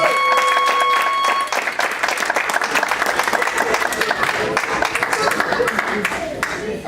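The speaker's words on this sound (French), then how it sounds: "si nous pouvons l'encourager avec des acclamations" An audience at a church family conference applauds and cheers, dense clapping mixed with crowd voices, steady and fairly loud, with a sustained tone in the first seconds.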